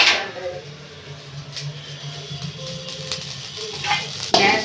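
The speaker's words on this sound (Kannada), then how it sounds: "ಸಾಸಿವೆ ಒಂದು ಚಟಪಟ ಅನ್ನೋವರೆಗೂ ಇದು ಮಾಡ್ಕೋಬೇಕು, ಫ್ರೈ ಮಾಡ್ಕೋಬೇಕು" Mustard seeds frying in a pan, a soft, steady sizzle with scattered faint pops and crackles under a low background hum, ending with a sharper clatter.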